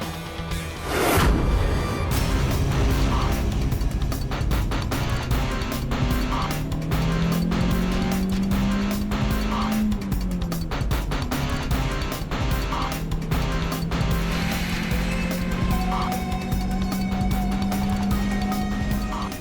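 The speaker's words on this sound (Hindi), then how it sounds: "ये विंटेज कार है, स्लो ही चलती है।" A slow-moving vintage car drives along with a continuous low engine drone that rises and falls in pitch, loud and close throughout, with a sharp thump near the start.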